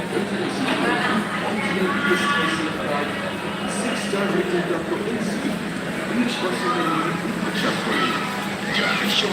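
A train rumbles at the busy Kamalapur railway station in Dhaka during the Eid travel rush, its steady rolling noise blended with a dense crowd murmur and voices throughout.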